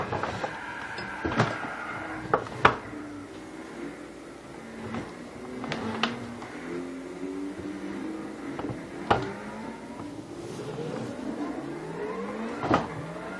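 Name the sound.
car spinning out in a racing video game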